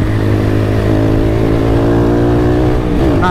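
A motorcycle ridden on a city street, its engine droning steadily and then rising as it accelerates, close and continuous with wind noise and no talking.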